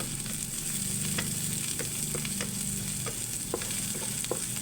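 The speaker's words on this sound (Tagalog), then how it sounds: "Gisa muna tayo ng garlic mince," Minced garlic and onion sautéing in a pan give a steady, close sizzle, with soft stirring scrapes breaking through; no one talks.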